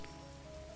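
Rain falls in the video game Discovery: Oxygen, a faint, steady patter on surfaces lasting under a second with no voices.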